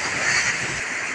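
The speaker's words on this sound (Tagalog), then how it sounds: "Ito guys, pinampas ng alon." Ocean surf washes in while fishing from shore, a broad hiss of breaking water and wind that stays steady over a short moment, with a low rumble that drops away partway through.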